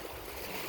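Sea waves washing onto a Jamaican beach, a brief, steady broadband rush of surf with no voices.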